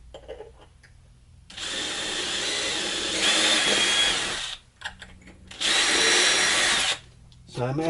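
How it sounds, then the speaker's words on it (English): Power drill pre-drilling holes, two sustained bursts of high whirring with a pause between, close and loud with quiet room noise around them. "So I'm absolutely pre-drilling."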